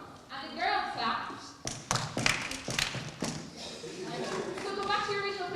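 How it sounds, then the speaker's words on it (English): Girls clap a few sharp beats in time during an Irish dance practice at a variety show, the claps mixed with stepping taps and thuds and an instructor's voice running over the top. "and the girls clap"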